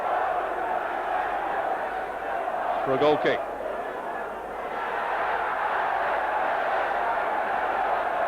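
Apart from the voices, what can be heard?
football crowd jeering at Stuart Pearce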